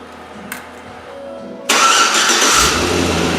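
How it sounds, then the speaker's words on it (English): A Hummer's engine cranks and fires up via remote start, a sudden loud catch after a quiet moment, settling into a steady close idle rumble. "Vehicle starts up, and then of course it's going to run for a predetermined amount of time."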